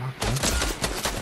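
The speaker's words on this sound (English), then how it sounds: "There's someone else shooting your Doug, too" Fortnite gunfire in quick bursts, a rapid fusillade of sharp shots filling the short stretch, loud and close.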